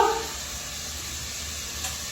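Steady oil sizzle of a whole fish frying, a continuous hissing crackle with no pauses and no talk over it.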